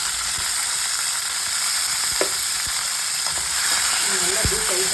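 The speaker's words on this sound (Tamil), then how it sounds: "எண்ணெய் காஞ்சதும் நாம் வந்து இறாலை போட்டு அதில் கொஞ்சம் ஃப்ரை பண்ண போகிறோம்." Prawns frying in hot oil in a pan for a home-cooked seafood meal, with a steady close sizzle throughout and a few louder pops and bubbling bursts, no talking.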